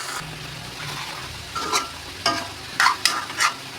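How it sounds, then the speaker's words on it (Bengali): Meat fries in a pan as it is stirred, giving a steady low sizzle under several distinct scraping strokes of the spoon toward the end, close up and with no voices. "তো আমি মাংসটাকে ভালোভাবে নেড়ে চেড়ে দিই।"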